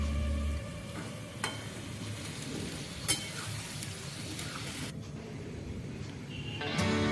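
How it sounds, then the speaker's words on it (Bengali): Potatoes stir-frying in a pan for a vegetarian matar paneer, giving a steady, quiet sizzle with a few soft spoon scrapes and clicks against the pan. "তখন আমি আলুগুলোও কিন্তু মিশিয়ে দিলাম। এখনো 3-4 মিনিট মতন আলুগুলো কষতে সময় লাগবে।"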